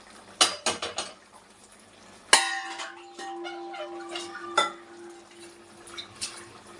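Cooked moong dal going into a pot of drumstick sambar. A metal spoon clanks and scrapes against the pot in a few sharp knocks, followed by a ringing tone and some softer stirring sounds up close.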